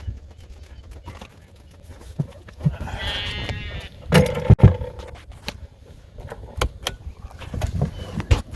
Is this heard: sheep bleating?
yes